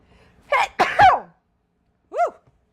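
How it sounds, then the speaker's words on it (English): A person with a cold lets out a sharp sneeze, preceded by a quick inhaling gasp, then a brief pause and a short exclaimed voice afterward, close and clear in a quiet room. "Uh-oh, I'm going to sneeze again."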